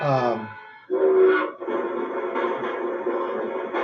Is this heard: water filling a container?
no